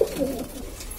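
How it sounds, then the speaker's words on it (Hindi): A Madrasi pigeon on a rooftop loft gives a single short coo, close and fairly soft. "ये कबूतर है"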